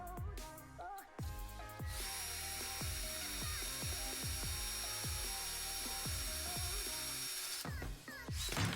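A power drill spins a 3D-printed pocket hole jig, giving a steady whine with a rhythmic scraping pulse repeating about twice a second, stopping and starting at the edges.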